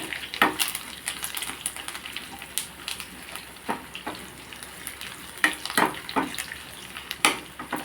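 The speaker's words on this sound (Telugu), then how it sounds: "చూడండి పోపు వేగిపోతుంది కదా" Spices crackle and sizzle in hot oil, quick irregular pops and spits over a soft frying hiss, close by with no talking.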